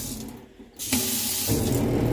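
Water suddenly starts running from a Zurn faucet with a loud rushing hiss, joined by a low steady hum or buzz as the fixture vibrates from a leaking cold-water cartridge.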